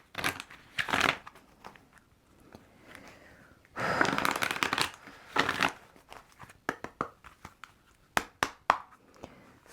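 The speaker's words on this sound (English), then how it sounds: "let's pull some moon cards" Moon oracle cards are shuffled by hand in several short rustling bursts, crisp riffling and flicking with pauses and scattered taps between, close and quiet, with no talking.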